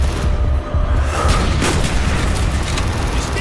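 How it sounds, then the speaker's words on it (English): Mortar explosions in the Call of Duty: Black Ops campaign mission Project Nova make a loud, continuous roar of blasts and heavy rumble with no pauses. "Mortars inbound! Firing mortars!"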